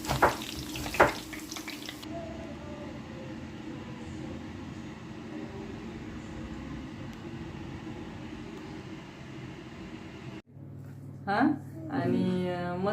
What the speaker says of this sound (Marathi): आत्ताच समोसे फ्राय होत आहेत खूप छान आणि क्रिस्पी समोसे होतात